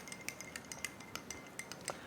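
A utensil clinks and scrapes repeatedly against a cooking pot while lentils and cumin are stirred, giving quick, light, irregular metallic taps at a quiet, close level.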